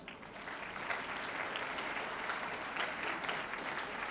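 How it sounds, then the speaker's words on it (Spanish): An audience at a university arts and humanities congress in Puebla applauding: dense, even clapping from many hands, held at a steady level for the whole stretch, moderately distant, with no speech over it. "Demos por favor un fuerte aplauso a NUNU Puebla."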